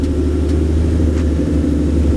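A cammed, nitrous-equipped Ford Mustang fitted with SLP mufflers rumbles loudly and steadily up close, a deep, choppy exhaust drone that holds constant without revving.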